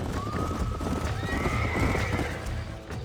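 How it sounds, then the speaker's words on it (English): A horse whinnies in a long, rising neigh over steady clip-clopping hooves, close and fairly loud, in the video game Red Dead Redemption. "These are fine horses"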